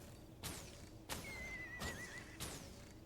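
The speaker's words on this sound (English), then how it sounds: "You hear the whinny of the horse." Horse whinnies from the video game Guild Wars 2 sound about four times in quick succession, each a sharp burst with a falling squeal, faint and clean with no talk.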